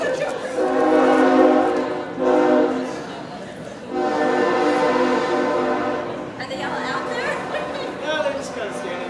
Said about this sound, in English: here comes our first train of the morning